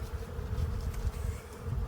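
Honeybees buzzing around an open hive in spring, a steady close droning hum from many bees, continuous and moderately loud.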